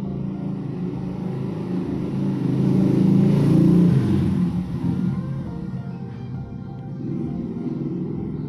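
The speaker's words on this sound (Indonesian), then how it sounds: "suara banyak motor lewat ya" Steady engine rumble from road traffic, swelling as motorbikes pass nearby and then fading back to a constant drone.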